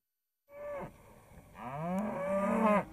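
Farm cattle moo twice, a short call followed by a longer drawn-out one, close and clear with nothing else around them.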